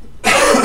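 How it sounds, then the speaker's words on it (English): A single harsh cough bursts out close and loud after a brief quiet moment on a phone call. "sorry, no, I coughed"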